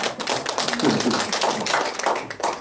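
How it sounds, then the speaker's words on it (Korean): A lecture audience gives a short round of clapping, a fairly close patter of individual claps with uneven rhythm that rises and falls over a couple of seconds. "박수"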